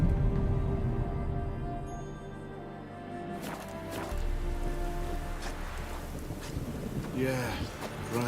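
In The Witcher 3: Wild Hunt, rain patters steadily with low wind rumble, a soft hiss that swells briefly midway; a person speaks over it near the end.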